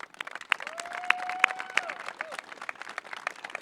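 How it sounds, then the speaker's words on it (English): Graduates at a 2023 NHS graduation ceremony applaud their families, a scattered, moderately distant clapping crowd with a few sharper close claps standing out and a faint tone running beneath. "Applaud them."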